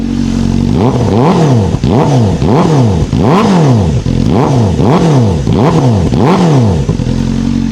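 A Honda Fireblade motorcycle engine revs hard and loud in repeated rising-and-falling bursts, about a dozen close throttle blips climbing toward 6,000 rpm with no talk.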